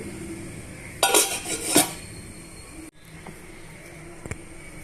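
A metal lid set onto a pot of salted rice on the stove, a short burst of clattering metal contact followed by a quieter single clink, then low steady background hum.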